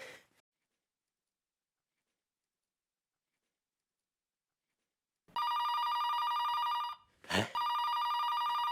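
A brief noise at the start, then silence for several seconds, followed by a loud electronic telephone ring that continues with one brief interruption, in a home sitcom scene.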